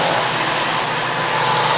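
Mini stock race cars circle the Waterford Speedbowl oval, their engines blending into a loud, steady, continuous roar with no break and no voices.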